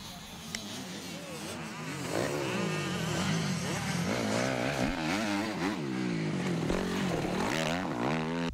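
Motocross motorcycles ride a dirt track at a riding school, engines revving and swelling in overlapping rising and falling whines, growing louder after a quieter start as bikes pass nearby.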